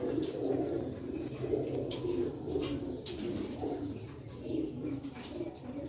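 Original-breed Sialkot roof pigeons cooing in soft, overlapping throaty murmurs that roll on steadily, close by, with faint scattered chirps and rustles above and no talking.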